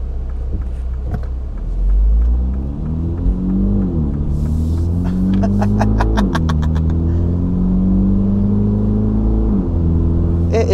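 Mini John Cooper Works GP3 in normal driving mode on surface streets, its engine droning steadily with rising and falling harmonics as it shifts through gears, a loud continuous in-car rumble with no talk.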